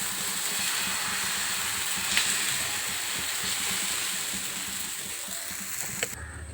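Ragi dosa batter cooks on a hot oiled pan with a soft, steady sizzle and hiss throughout, plus a couple of faint clicks along the way.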